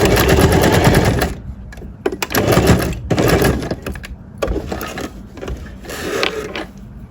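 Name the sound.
sewing machine stitching trousers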